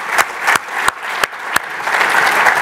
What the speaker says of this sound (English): I actually do want to have a round of applause as I put this down for our community members in the audience.